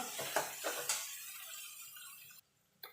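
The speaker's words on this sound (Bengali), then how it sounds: "এবারে এটাকে মিনিট পাতে একটুখানি নাড়াচাড়া করে নেব, মশলা কাঁচা গন্ধটা একটু যাওয়া পর্যন্ত।" A spatula scrapes and stirs spice masala with Kashmiri chili powder in a pan, giving a few close, scratchy strokes over a soft sizzle that fades to near silence.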